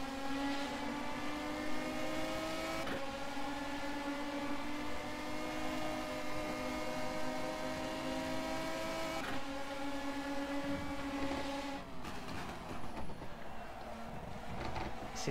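Megane Trophy race car in rFactor 2 holds a steady, high-revving engine drone on track, sharp gear-shift breaks cutting it around the third, ninth and twelfth seconds, then pitch dipping near the end, loud and continuous throughout.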